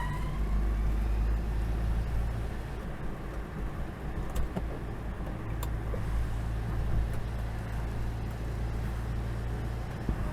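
A 1972 Hillman Avenger drives along with a steady engine drone and road rumble heard from inside, the pitch dipping and recovering as it shifts through the gears, with a couple of faint clicks.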